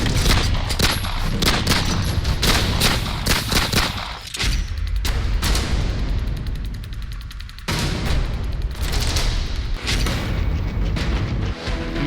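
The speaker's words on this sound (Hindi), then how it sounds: "मेरठ के भोला की झाल इलाके में ताबड़तोड़ कई राउंड गोलियां चली" Several rounds of gunfire ring out in rapid, irregular bursts during a police encounter in the Bhola ki Jhal area of Meerut, loud sharp cracks crowding one another over continuous noise.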